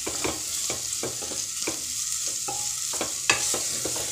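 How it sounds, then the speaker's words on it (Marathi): Dal is sautéed in a pan for dal palak, a spoon scraping and clinking in an irregular rhythm over a steady, close sizzle of frying. "छान परतून घेऊया"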